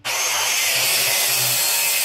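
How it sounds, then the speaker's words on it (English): A power saw rips through plywood for shelves in a bus conversion, a loud, continuous bright rasping whine lasting the full stretch, close up and alone. "So we're going to set our saw up here"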